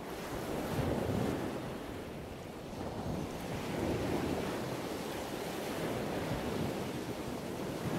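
Sea waves wash and break on a shore in a continuous, rolling surge that swells and eases, with steady wind buffeting the microphone and no voices.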